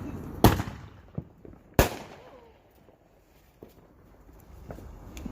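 Mortar fireworks bursting outdoors: two sharp, fairly close bangs a second apart, followed by fainter distant pops and crackle.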